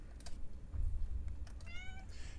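A cat meows and howls, a few short close cries with rising harmonic wails near the end, over low room rumble and no talk.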